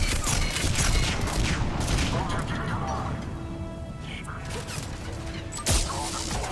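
Bursts of rapid gunfire and crashing impacts in Mass Effect 3, loud and dense at first, then easing into a busy combat din with someone talking over parts of it.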